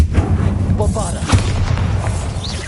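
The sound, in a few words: explosion from the Bombarda spell in the video game Hogwarts Legacy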